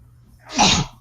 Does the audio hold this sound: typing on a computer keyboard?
no